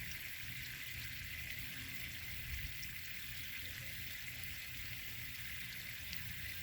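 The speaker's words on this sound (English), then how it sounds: "Give it plenty of water there." Water poured steadily onto a plant in a black canvas grow bag, a continuous soft splashing and trickling that runs evenly throughout at a low, close level with no talking.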